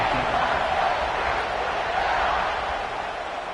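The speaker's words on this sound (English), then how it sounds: "this crowd is buzzing after that last score" A college football stadium crowd after a touchdown makes a steady, dense roar of many voices that stays loud and constant throughout, with no single voice standing out.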